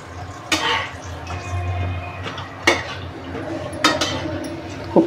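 Ajwain-leaf bhaji fritters frying in a pan, flipped and turned with a utensil: a low bubbling fry underneath, broken by a few sharp clinks and scrapes of metal against the pan.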